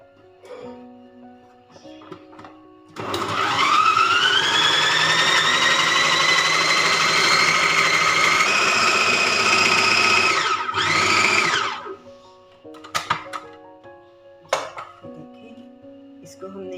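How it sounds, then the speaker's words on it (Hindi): An electric chopper whirs steadily for about nine seconds, finely chopping ingredients for homemade chicken nuggets, then spins down with a brief second burst, loud and close with a rising motor whine. "इसको चॉप करके इसको बारीक बारीक इसमें कर लेंगे"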